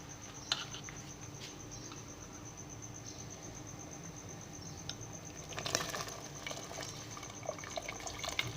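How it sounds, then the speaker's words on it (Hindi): Water heats toward a boil in a pot ready for rice, giving a faint bubbling patter with small pops and a steady high hiss, quiet and close, growing busier toward the end. "पानी को उबाल आ चुका है"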